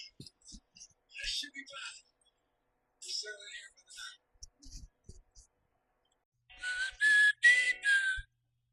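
A few short bursts of whistled notes, then a longer, clearer whistled melody near the end, with gaps of quiet between phrases.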